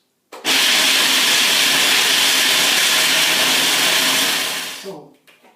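A blender grinds almonds into coarse meal, a loud, steady whirring roar that starts abruptly, holds for about four and a half seconds, then winds down and stops.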